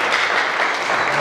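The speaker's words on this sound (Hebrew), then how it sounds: "אתה מגיע למחיאות כפיים לצדיק הזה" An audience at a rabbi's religious lesson breaks into brief, steady clapping that is close and fairly loud, with no pauses.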